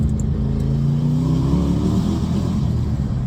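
LS V8-swapped Porsche 911 idling and revving with a deep, steady rumble, loud and close, holding a low throbbing tone with a slight rise in pitch.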